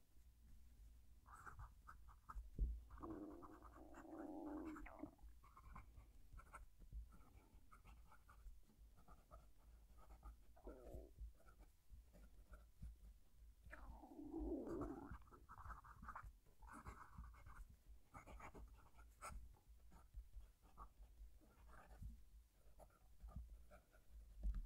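Steel fountain pen nib scratching across paper as a sentence is written, a soft continuous scrape in the quiet with two louder bursts of strokes, close to the mic.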